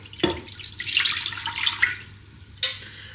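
Water poured into a Ninja Foodi 15-in-1 Max pot for steaming, with a short splash at the start, a sustained pour in the middle, and a second brief splash near the end, close and clear with no talk.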